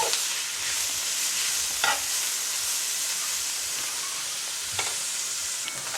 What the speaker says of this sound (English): So stir it a little bit more before we crack the egg and put it in.